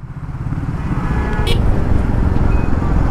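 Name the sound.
traffic jam on a bridge, heard from a motorcycle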